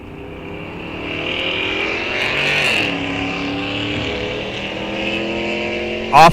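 Bracket drag race cars launch down the strip at Rock Falls Raceway, a loud sustained engine roar that rises in pitch as they accelerate away, with a sharp burst at the very end.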